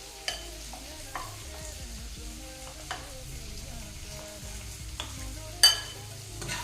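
Capsicum and onion fry in a pan for chilli chicken, with a soft, steady sizzle under periodic scraping clicks of a spoon stirring. A sharper burst of clatter comes near the end.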